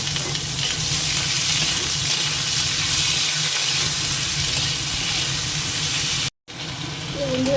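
Potatoes fry in a pan with a loud, continuous sizzle and hiss, broken by one brief silent gap, and a voice is briefly heard toward the end.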